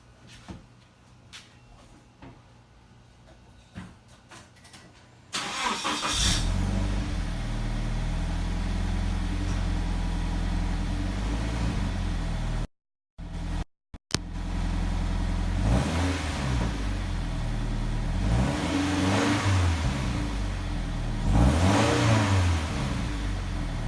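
A 2013 Scion FR-S/Toyota 86 with a Spec D exhaust cold-starts after a few seconds of quiet, settles into a steady idle, then gives several rising revs to about 2,000 RPM, close and loud with no talking.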